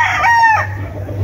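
A gamecock crows loudly and close, one full cock-a-doodle-doo call about half a second long, at a rooster and bullstag sale in Montalban, over a low steady hum.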